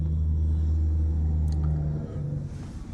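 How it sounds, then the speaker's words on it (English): A truck rolls past on a road, a loud, steady low engine rumble close by that eases off toward the end, with no talking over it. "Here comes a truck."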